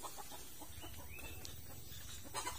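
Birds call faintly across a rural Javanese village, with a short whistled call standing out over a low steady background hum, distant and sparse.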